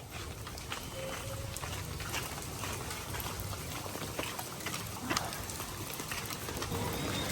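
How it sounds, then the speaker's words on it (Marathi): Steady rain pattering and hissing throughout, a dense continuous wash of drops with occasional sharper taps, no voices. "चालू झालाय पाऊस तुम्ही बघा"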